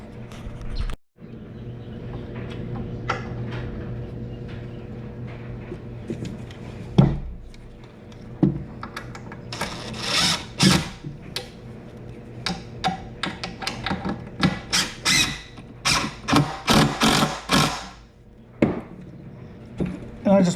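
A 2.5 inch screw is driven at an angle into a wooden workbench board, giving bursts of whirring and ticking with clicks and knocks, close by. A voice talks quietly in places.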